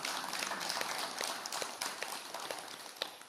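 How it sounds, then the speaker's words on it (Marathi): A crowd at a Patanjali yoga therapy camp in Banda claps together, a dense, steady patter of many hands with occasional sharper claps, fairly close and continuing throughout without pause. "सगळ्यांनी टाळ्या वाजवूया."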